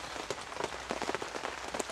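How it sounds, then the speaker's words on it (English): Rain patters on a tipi tent in woodland, soft irregular drops tapping the canvas close and faint, with no voices. "I've got rain coming in the top hole there"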